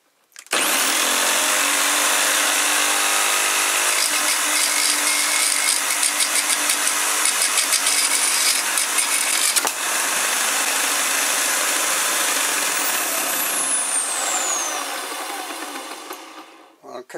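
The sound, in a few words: shredder shredding 3D printed parts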